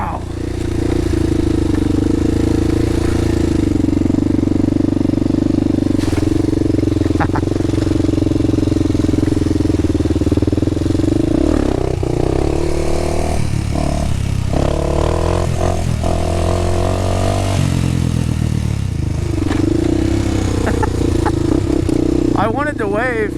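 A Honda 400ex four-wheeler engine runs steadily through a ride, a loud droning hum that shifts in pitch midway as the throttle changes, with people talking over it.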